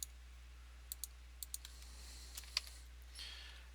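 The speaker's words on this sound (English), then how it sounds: "My typing is horrible." Sparse keyboard typing taps at a computer during a tabletop bomber mission game, with a handful of separate clicks spread out irregularly and a softer rustle near the end, all faint over a steady low hum and no talking.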